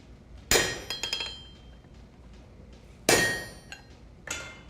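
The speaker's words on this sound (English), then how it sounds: "I'm gonna go back to the hammer and draw it out." Blacksmith hammering hot metal on an anvil to draw it out, sharp ringing strikes at irregular intervals, a few loud blows with lighter bouncing taps between, close up with no talk.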